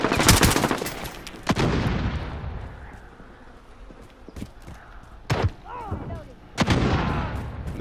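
Gun firing in the shooter Modern Warfare, several sharp loud shots in short bursts spaced a second or more apart, each with a decaying tail, and a faint voice in between.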